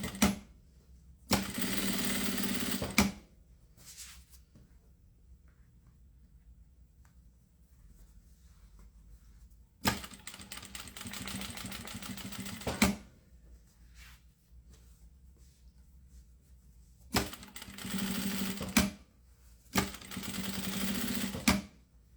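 A sewing machine stitches the handle of a fabric cube-shaped bag in three loud bursts of rapid, steady motor whirring, with quiet pauses and handling sounds between runs.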